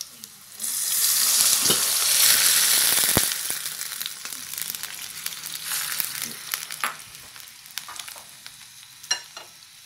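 Fried seitan pieces tossed into onions frying in a pan, giving a loud burst of sizzling that settles into steady crackling with scattered stirring clinks and scrapes.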